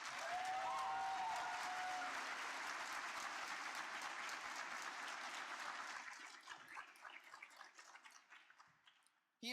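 Crowd applause at a military school commencement, a dense wash of clapping that holds steady, then thins into scattered individual claps and fades out.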